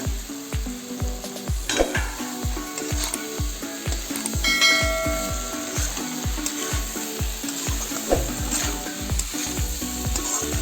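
Taro stolons sizzle steadily in a hot frying pan for a traditional Bengali dish, a continuous close crackle and hiss with rhythmic scraping taps as they are stirred.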